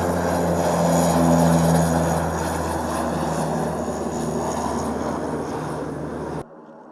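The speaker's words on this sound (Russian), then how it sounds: "Несколько часов назад в аэропорту столицы Коми приземлился второй Ан-24." An Antonov An-24 turboprop airplane at the airport in the Komi capital produces a loud, steady propeller and engine drone with a low throbbing hum that holds for several seconds before cutting off abruptly.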